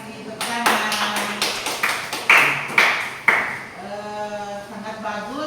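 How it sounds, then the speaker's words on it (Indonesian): Applause from a class after a group presentation on computational thinking and digital literacy, a burst of clapping with sharp claps rising and fading while voices talk over it. "Terima kasih, tepuk tangan."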